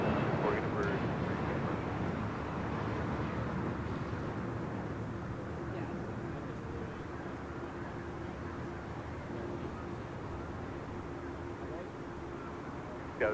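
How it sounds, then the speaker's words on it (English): A Boeing 787-10 Dreamliner airliner arriving on the south side of LAX, a steady broad jet rumble that holds level throughout while people talk over it. "Flight 33, 787-10 Dreamliner just arriving here on the south side."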